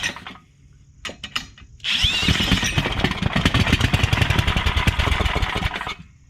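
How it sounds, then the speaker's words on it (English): A power drill spins a Tecumseh 9hp 318cc small engine built from junkyard parts to start it, a loud steady whirring drone with rapid engine chuffing that runs for about four seconds after a few short taps, then stops. "I don't know if the drill's spinning it fast enough"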